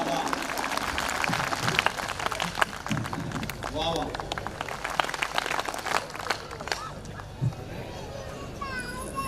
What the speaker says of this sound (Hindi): तालियां पूरे सदन की एक बार बज जाएं ताकि उनका मूड बन जाए